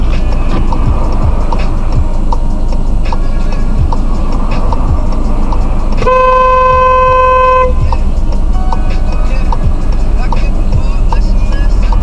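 A car horn honks in one sustained blast of about a second and a half, warning schoolchildren about to dash across a street outside a crossing, recorded by a dashcam amid steady traffic noise.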